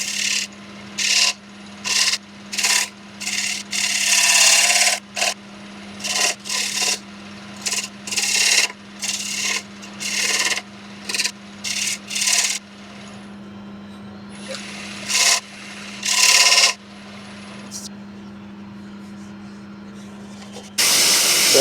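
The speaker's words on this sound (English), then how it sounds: "now just continue those beads around the corner with, again, the small spindle gouge" A small spindle gouge cuts beads into a yew bowl on a wood lathe, giving repeated short rasping bursts of shaving over a steady motor hum, loud and close, with brief pauses between cuts.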